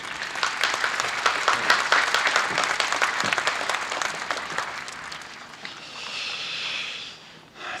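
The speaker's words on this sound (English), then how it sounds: "So if you please give him a round of applause as he comes up here" An audience applauds at a high school graduation ceremony, a dense, sustained burst of clapping that fades gradually toward the end, with faint crowd noise underneath.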